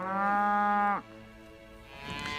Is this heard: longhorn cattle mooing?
yes